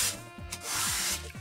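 Edges of a dust extraction blast gate are deburred by hand after sanding, giving several short, close rasping strokes that scrape back and forth in an uneven rhythm.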